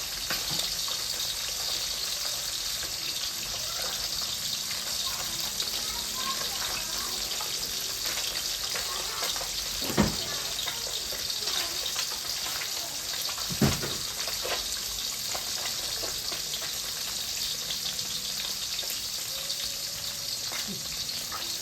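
White Mun river fish deep-frying in hot oil, a loud continuous bubbling hiss that holds steady throughout, broken by a couple of sharp knocks.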